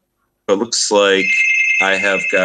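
A very loud doorbell rings at home during a tabletop RPG playtest session, a sustained bright electronic chime cutting in right after a man's speech and continuing under his voice as he keeps talking.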